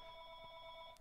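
A household telephone rings during a podcast recording, its steady electronic tone sounding throughout at a faint, distant level, with no talking.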